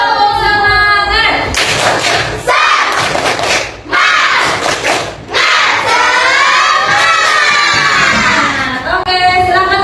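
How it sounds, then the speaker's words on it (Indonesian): Indonesian classroom of children performing the tepuk semangat, a rhythmic clapping chant with shouted words. Loud, close, crowded and energetic, with bursts of claps and voices that break briefly before surging again. "kita tepuk semangat dulu"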